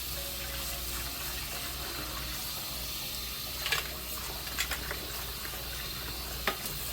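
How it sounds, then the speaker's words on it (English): Catfish is washed by hand in cold water in a bowl, with continuous splashing and sloshing and a few brief clinks, close by and without talk. "Go ahead and wash your fish."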